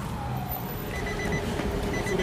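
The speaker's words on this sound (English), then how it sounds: "I hear some sirens. Hopefully, that's the ambulance" A faint, distant emergency siren wails over a low ambient hum as an ambulance approaches, rising and falling in a thin tone without any talk.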